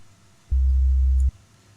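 A pure low sine wave tone from the Sytrus synthesizer in FL Studio sounds once, holding steady for under a second before stopping cleanly amid near silence.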